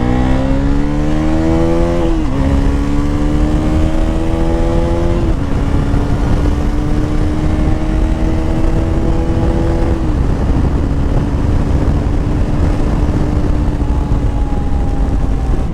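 A Bajaj Pulsar NS 350 motorcycle on a ride, its engine loud and close. It climbs through several rising gear pulls, each ending in a quick drop at the shift, then holds a steady cruising drone over constant wind rush.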